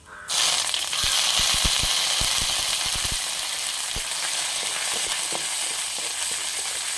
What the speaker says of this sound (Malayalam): അപ്പോൾ കടുക് പൊട്ടിയിട്ടുണ്ട് നമുക്ക് മുരിങ്ങയിലയും കൂടെ ഇട്ട് കൊടുക്കാം